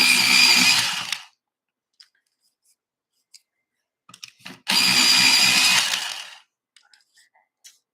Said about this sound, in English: let me just sharpen these up